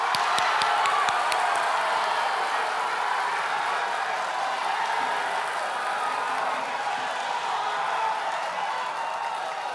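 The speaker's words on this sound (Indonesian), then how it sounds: "Silahkan tepuk tangan." Applause from the audience at the 2014 Indonesian presidential debate, a dense crackle of clapping and crowd noise that starts strong with a few sharp claps and tapers slightly, with no talk over it.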